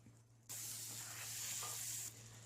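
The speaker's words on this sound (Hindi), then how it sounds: "बटर अच्छे से मेल्ट हो रहा है।" Butter melting in a frying pan still holding the juices of freshly fried chicken seekh kebabs, a bright sizzle that bursts in suddenly, holds steady and close for about a second and a half, then drops back to a low hiss.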